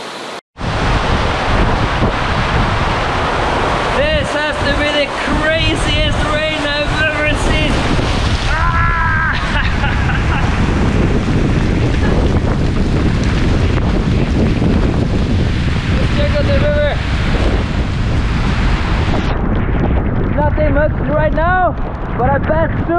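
A motorboat passes through typhoon wind and crashing waves in the Philippines, heavy wind roar buffeting the microphone and masking any engine, while excited voices shout and talk throughout.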